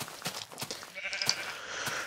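Sheep bleating in the Minecraft video game, a few short nasal bleats spread across a couple of seconds, fairly faint and heard alone without talk.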